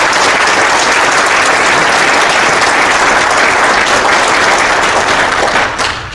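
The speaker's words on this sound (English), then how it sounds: "I hope this room joins me in giving him a round of applause for the amazing work that he does" Sustained, loud applause from a conference audience at a summit, dense steady clapping filling the whole stretch and tapering slightly at the end, with no talk over it.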